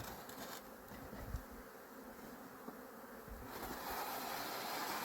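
Honeybees swarm and buzz around a heavy, honey-filled beehive, a dense, steady droning hum close by that swells louder toward the end, with no voices.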